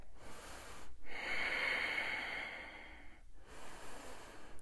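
Slow, steady breaths held in a yoga runner's lunge, one long airy exhale lasting a couple of seconds between quieter breaths, close and alone without talk.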